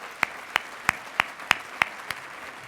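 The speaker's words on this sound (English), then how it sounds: "could we all give everybody up here on the front another applause?" A handful of single, evenly spaced claps at an economic outlook event, seven sharp hand-claps in a slow, steady rhythm, fairly quiet and heard alone without voices.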